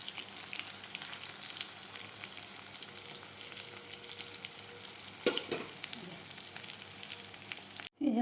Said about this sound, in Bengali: এই যে আমার পকোড়া ভাজা হয়ে গেছে।